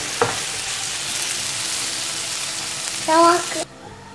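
Chicken and mushroom fry in a pan as the water cooks off and they begin to brown, a steady close sizzle with a brief utensil clink near the start and a short scraping stir near the end.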